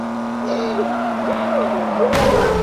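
A car driving on a road, a steady low engine hum with a shift in tone partway through, then a louder burst of road noise at the end.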